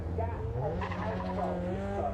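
Mazda MX-5 race cars roll onto the grid at Donington Park, low engine idle and rumble steady beneath a commentator talking, with a brief tyre squeal.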